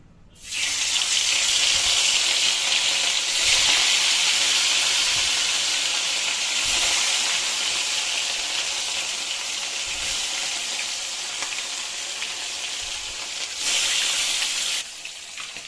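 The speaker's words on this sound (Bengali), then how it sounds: "মাছ ভাজা হয়ে যাক," Fish frying in hot oil, a loud, steady, close sizzling hiss that starts abruptly and holds for most of the clip before easing slightly, with no talking.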